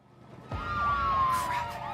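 Several police car sirens wail together during a car chase in the video game As Dusk Falls, starting abruptly with a low rumble of engines and rising and falling tones that sweep and overlap, loud and close, with no talking.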